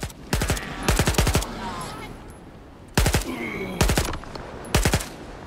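Automatic weapon fire in Stalker 2 comes as several sharp, rapid bursts of close, loud shots separated by short pauses, with a brief spoken remark between them.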